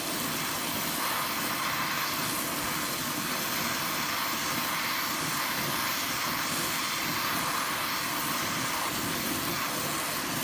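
A gas torch heats the end of a 16-18 copper pipe to anneal it, giving a steady, continuous roaring hiss that stays loud and even throughout with no talk.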